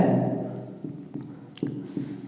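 Pen or chalk strokes writing during a Class 9 maths lesson on number systems, a few soft scratchy taps spaced across a couple of seconds over a low voice-like hum at the start.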